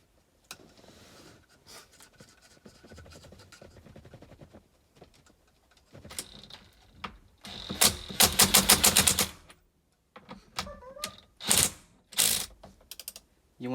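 A ratchet tightening a bolt while retrofitting the steering wheel on a 2001–2005 Lexus IS300: close, quiet clicking in intermittent bursts, faint at first and growing louder and faster in later spurts, with no speech.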